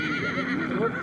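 A horse neighs at a busy livestock market in Karakol, the call blending into crowd murmur and hoof clatter, fairly close and steady over a short span.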